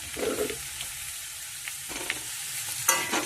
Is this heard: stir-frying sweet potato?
yes